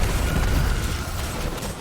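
Video game explosions from solar splash damage set off by a stun shot, a dense rumbling burst of low booms that rolls on steadily for the whole stretch, loud and close with no talk.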